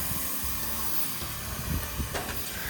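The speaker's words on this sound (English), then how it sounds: "That one over there has steam coming out the bottom." Steam hisses steadily from beneath a steam locomotive, a loud continuous rushing hiss with low rumbling underneath and a brief sharper burst near the end.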